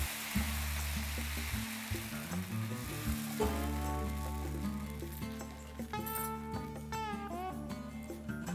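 Fish kola balls deep-frying in hot oil until golden give a steady, continuous sizzle that runs the whole time, with music playing over it.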